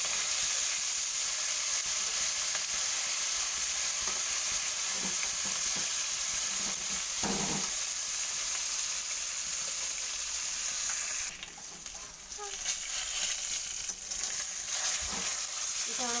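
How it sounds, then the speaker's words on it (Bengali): Fish sizzles steadily in hot oil in a home kitchen, cooking for a pointed gourd and fish curry, a loud continuous hiss of frying broken by a few soft clinks and light stirring. "মাছটা ভাজা হয়ে গেছে"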